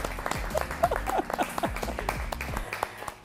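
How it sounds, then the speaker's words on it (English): Applause at a family dinner gathering, a short burst of several people clapping nearby, uneven and brisk, fading out after a few seconds. "Let's give everybody a round of applause."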